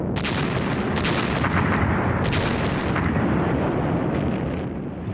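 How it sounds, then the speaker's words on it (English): A sustained artillery bombardment from World War II, heard as a dense, continuous roar of overlapping booms and blasts with sharper cracks standing out early and midway. "Then there was a devastating artillery bombardment."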